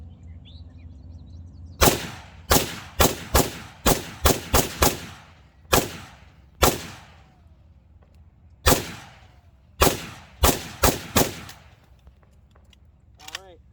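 An Arsenal SAM-5 AK-style rifle fires outdoors in a string of about fifteen loud, sharp shots, some in quick pairs and bursts with short gaps, each leaving a brief echo and then a quiet pause.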